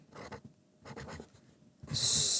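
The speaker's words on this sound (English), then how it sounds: "we've got a bit of white tape, stick it on there, and we're going to write" A marker squeaks and scratches across a strip of white tape in a few short strokes, close and clear, ending in a louder sustained stroke.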